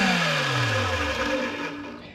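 A Vevor magnetic drill whirs up loudly from a falling pitch sweep and runs steadily, then the motor note starts to fade as it is switched off.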